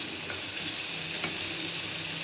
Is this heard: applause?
no